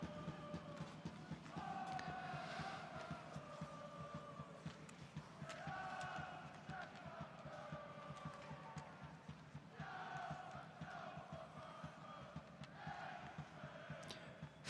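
Disgruntled home crowd at a Swedish Hockey League ice hockey game, Malmö against Skellefteå, a low, steady rumble of voices swelling into louder waves of jeers and shouts before easing back.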